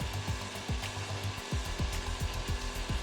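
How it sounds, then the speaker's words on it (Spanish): An electric drill connected to and powered by a Liberty Engine free-energy generator runs steadily, giving a loud continuous motor whir with a rhythmic low thumping pulse beneath it. "Vamos a conectar este taladro."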